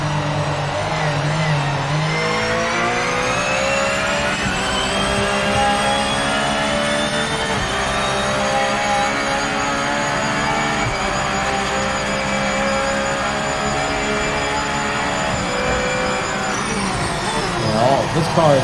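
A race car engine in a racing video game holds a loud, sustained high-revving drone that barely changes pitch, while someone talks over it.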